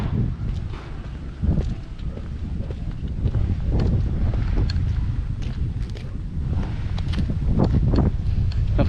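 Gusty outdoor wind buffets the microphone on a walk, producing continuous loud rumbling and flapping bursts that rise and fall without pause, with no speech.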